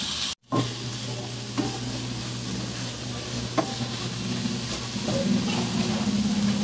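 Pork belly for Bicol Express sizzles steadily in a pan as its fat renders into oil, with a few sharp scrapes and clacks of a utensil stirring it and a continuous frying hiss.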